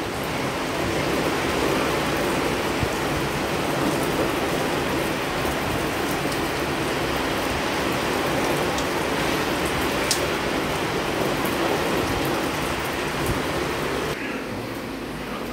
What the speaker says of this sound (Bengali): দেখো এখন আবার জোরে বৃষ্টি নেমেছে।